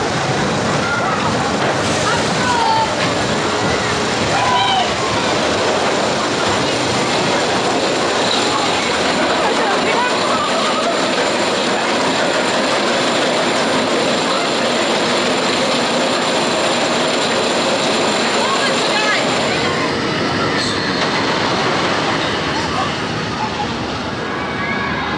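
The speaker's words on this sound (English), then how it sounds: "Taking a ride on the best ride, Blackpool Pleasure Beach, and that is the big one." Big One roller coaster at Blackpool Pleasure Beach, running a two-train service, gives a loud, continuous rush of wind and rattling track noise with ratcheting mechanical clatter throughout, heard close up from on the ride.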